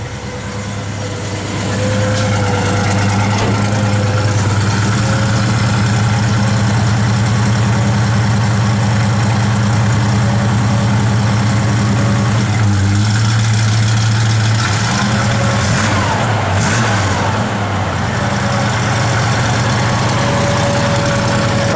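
A 1965 Chevrolet Impala SS engine idles loudly and steadily nearby, a low constant rumble with a slight throb that continues throughout.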